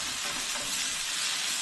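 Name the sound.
garlic and onions frying in a pan, being stirred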